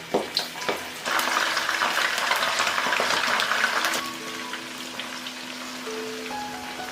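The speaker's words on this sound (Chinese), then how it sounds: "炸茶叶的油我们继续用来炸虾，一个一个分开放进来" Shrimp coated in a thin layer of starch drop one by one into hot oil that was used earlier to fry tea leaves; a few taps, then a steady, crackling sizzle that holds close and even, easing slightly later.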